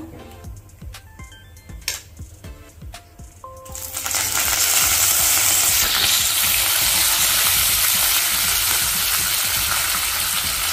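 Curry leaves hit hot tempering oil on a low flame with a sudden loud, crackling sizzle after a few quiet clinks and spoon taps, and the hiss holds steady to the end.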